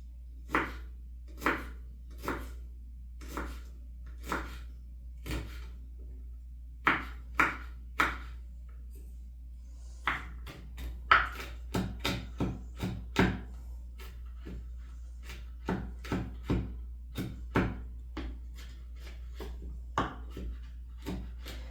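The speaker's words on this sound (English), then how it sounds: "Let's just chop these up, okay?" A knife chopping food on a cutting board while making chili, sharp distinct knocks that come singly at first, then in quicker uneven bursts, close and clear over a faint steady hum.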